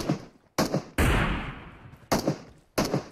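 Gunfire from PUBG Mobile comes in several sharp, close bursts of shots spaced about a second apart, with one longer crackling volley in the middle.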